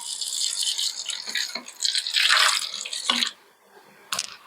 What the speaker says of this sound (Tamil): இந்த தண்ணி என்ன பண்ண போகிறோம் இந்த பாட்டிலில் ஊற்றுறோம்